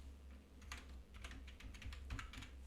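Quick bursts of typing on a computer keyboard, clustered soft clicks in short runs, close and fairly quiet with no talking.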